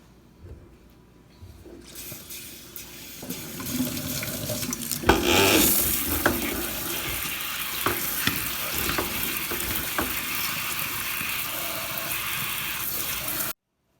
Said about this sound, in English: I'm just going to give them a quick rinse